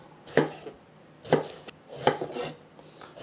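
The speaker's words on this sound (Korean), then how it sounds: "일단은 가지를 잘라 보겠습니다" Knife cuts eggplant on a board in three distinct chopping strokes spaced about a second apart, each a crisp close thunk with a short scrape after it.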